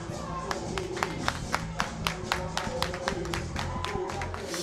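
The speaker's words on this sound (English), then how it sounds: "Round of applause" Audience at a rap battle show claps steadily in a sustained round of applause, sharp hand claps ringing over a low crowd murmur and hum, moderately loud throughout.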